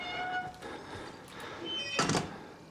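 A door opening in the horror game Outlast, a brief burst of wooden thudding and rattling near the end over a dim, droning ambient backdrop with no speech.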